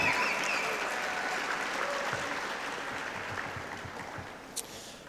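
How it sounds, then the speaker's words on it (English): An audience at a high school athletic banquet applauds continuously, a dense and loud clatter of many hands that slowly tapers off over several seconds. "you can clap loud for that"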